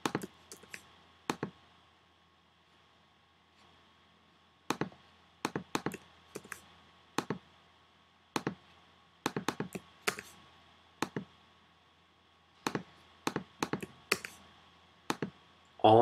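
Computer mouse clicks and keyboard keystrokes come in sharp, close bursts separated by pauses, repeating rhythmically with quick clusters of taps and single clicks in a quiet room.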